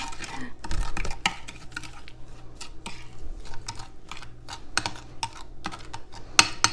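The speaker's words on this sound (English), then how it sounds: "Now we just take a spoon and we mix this all up" A spoon stirs and scrapes through a bowl of appetizer ingredients for bacon-wrapped water chestnuts and pineapple with chili sauce, giving close, irregular clicks and scrapes with no talking.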